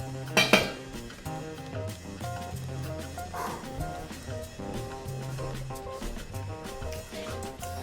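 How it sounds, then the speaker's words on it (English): Pasta is stirred in a cooking pot, with soft scraping and clinks of utensil on metal and a couple of sharper knocks early on, all fairly quiet under background music. "we're just going to mix it all in and keep stirring this"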